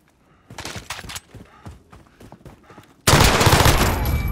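Gunfire in a video game: scattered sharp shots and rapid bursts at first, then a sudden loud, dense volley of continuous automatic fire that keeps going to the end.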